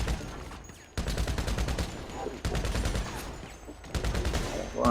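Video game gunfire in bursts: dense, rapid shots in three quick volleys separated by brief gaps, loud and close, with no talking.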